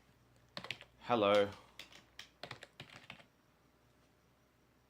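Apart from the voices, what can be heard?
typing on a computer keyboard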